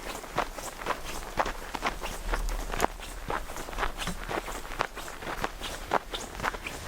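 A small child's snow pants swish in a steady, rhythmic pattern while walking and running along a snowy winter woodland trail in Algonquin, each stride a soft nylon brush, close and continuous with no talking.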